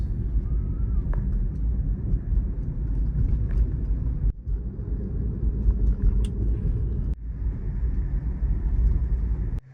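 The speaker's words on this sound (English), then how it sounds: "I see a lot of trucks going past me" Trucks rolling past in a post-disaster cleanup area, a steady low rumble of heavy traffic at moderate distance, with a couple of brief dips between passes and faint background noise.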